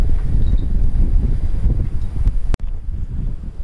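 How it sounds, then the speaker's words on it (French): Wind gusts suddenly across a sailboat at sea, a loud, buffeting rumble against the microphone with rushing water beneath it. "il y a le vent qui s'est levé d'un coup là"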